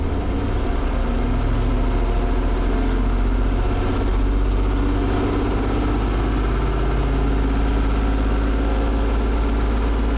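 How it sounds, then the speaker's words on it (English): A car engine runs at raised RPM with a steady, loud, continuous drone and deep rumble, holding an even pitch throughout rather than climbing. "Let's get my RPM up here so you guys can see it."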